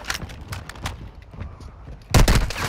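Rapid gunfire in a Warzone battle royale match, several sharp bursts of shots spread across the moment, ending in a loud close burst, with faint background game sounds between.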